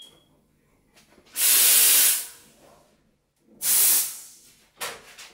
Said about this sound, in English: Always purge your wand.